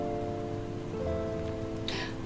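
Steady, soft rain pattering on surfaces, with faint sustained musical tones underneath and a brief brighter splash of noise near the end.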